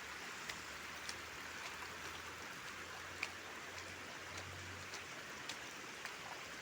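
Shallow water streams across a concrete walking path in a steady, faint trickling wash, with scattered small drips and splashes and a low hum in the background.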